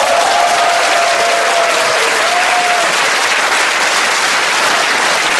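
Steady, dense applause from a concert audience at a National Cemetery memorial concert, loud and sustained throughout, with a faint voice briefly audible early on.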